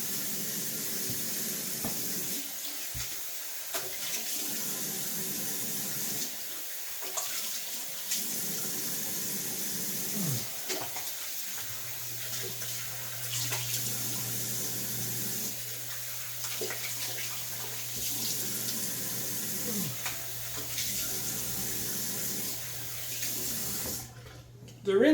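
Tap water runs steadily as soap is rinsed off the eyelids after eyelash shampoo cleaning for mild blepharitis, a continuous close splashing wash with a low steady hum joining partway through, then cutting off abruptly at the end.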